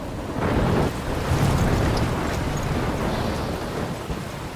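A video game storm rumbles with crashing waves, wind and low thunder, a broad loud wash that swells early and then settles into a steady roar.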